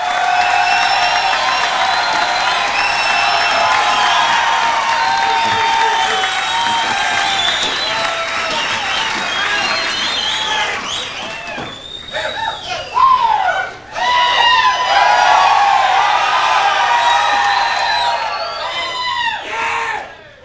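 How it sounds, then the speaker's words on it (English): A large church congregation cheers and applauds in a sustained loud roar of clapping and shouting, with whoops and screams rising near the end. "What's with all the cheering?"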